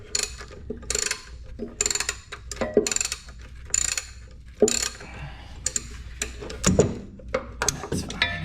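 A wrench ratchets in repeated clicking bursts on the torque converter bolts during a Turbo Hydromatic 350 transmission swap on a 1982 Camaro, heard close with pauses between strokes.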